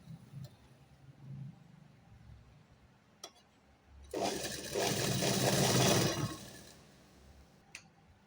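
A sewing machine stitches the edge of a blouse, its motor running in a steady whirring burst for about two and a half seconds amid quiet room noise and a few faint ticks.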